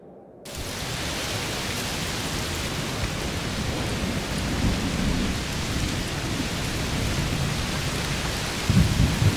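Heavy rain and a thunderstorm in the video game A Plague Tale: Requiem, a dense, loud, steady downpour that starts abruptly, with deep rumbling thunder underneath and no talking.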